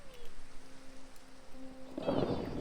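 Steady hiss of rain during a thunderstorm in Minecraft with the Pixelmon mod, with faint tonal game sounds over it and a louder rumbling swell near the end.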